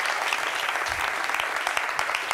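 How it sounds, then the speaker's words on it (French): Audience applause on a television talk show, a continuous crowd of clapping hands, loud and even, with occasional sharper claps and a faint voice beneath. "Merci d'applaudir encore plus fort"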